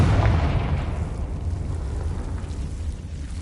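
A Confringo spell blast in Hogwarts Legacy lets off a loud fiery burst that fades into a long rumbling, crackling roar over a few seconds, with no voices.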